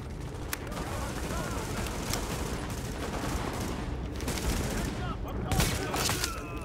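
Gunfire in a shooter video game with headshots: steady rattling shots and blasts run continuously at close range, mixed with dense game noise and a voice talking over it.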